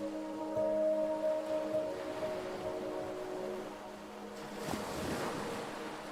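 Ocean waves wash onto the shore, a soft, continuous surf with a gentle swell that rises again toward the end, with faint steady tones drifting underneath.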